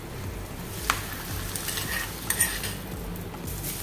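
Hot tempering hits a bowl of spiced cucumber salad with a brief sizzle, followed by spoon scrapes and light clinks of stirring; no voices.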